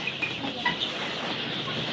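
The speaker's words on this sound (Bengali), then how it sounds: "এগুলো হচ্ছে টাইগার মুরগি" Tiger breed chickens clucking softly in a few short calls over a steady background hiss at a farm on a rainy day.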